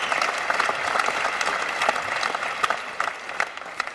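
An audience at a stand-up comedy show bursts into applause, a dense wash of clapping that swells and then thins out with scattered louder claps over four seconds.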